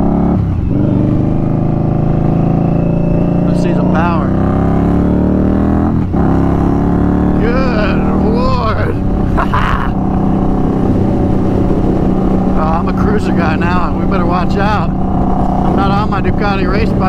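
A 2019 custom Indian Scout Bobber motorcycle accelerating on the road, its engine rising and falling steadily through the gears for a long stretch, with loud, continuous wind rush heard from the rider's position.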